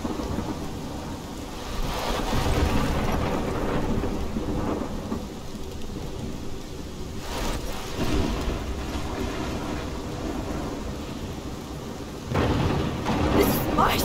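Steady heavy rain with rolling thunder in the Life is Strange video game, a continuous roar swelling with a loud thunder crack near the end.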